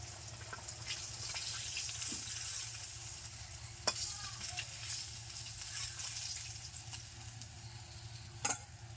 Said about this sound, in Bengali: সবগুলো মাছ ভেজে নিয়েছি, এখন তেল ঝরিয়ে তুলে নিচ্ছি।